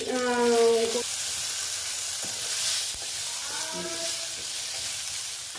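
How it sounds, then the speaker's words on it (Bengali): Ground cumin and other spices fry in hot oil for a vegetarian banana-flower dish, giving a steady close sizzle throughout, with brief talk over it at the start and again near the middle. "দেখো বন্ধুরা মোটামুটি মশলাটা ভাজা হয়ে গেছে"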